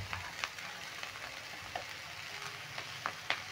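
Sabudana pulao being stir-fried with salt and turmeric gives a soft, steady sizzle punctuated by a few sharper scrapes of the spatula, fairly quiet and without speech.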